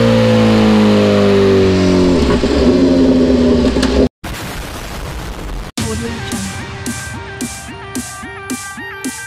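A BMW S1000RR superbike engine revs hard on a dyno: sustained high-rpm roar, a brief cut near four seconds, then repeated rhythmic throttle blips with pops, loud and close.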